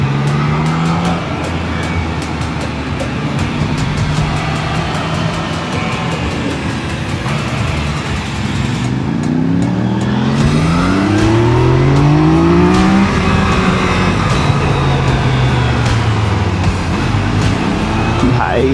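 A Triumph motorcycle, from a Street Triple 765 or Daytona 660 ridden on a race track, revs hard and close, its engine pitch sweeping up and down through repeated rising runs over steady wind roar.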